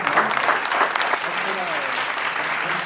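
Audience applause fills a discus fish show as an award winner is honoured, steady dense clapping throughout with a faint voice drifting underneath.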